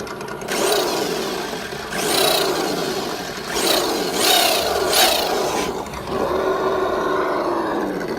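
Whining motor sound of a toy car's engine sound effect, pitch following the throttle, rising and falling in several surges like a small engine being revved repeatedly, loud and close with no voices.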